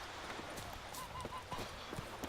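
In The Witcher 3, the horse Roach's hooves clip-clop in quick, irregular steps, faint under game sounds with a few soft tonal blips.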